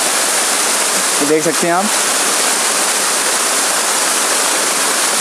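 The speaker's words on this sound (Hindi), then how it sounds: "तो ये रहा गाइज हमारा वाटरफॉल" A waterfall in a hidden mountain stream roars as a loud, steady rush of white water, close and unbroken throughout, with someone speaking briefly over it.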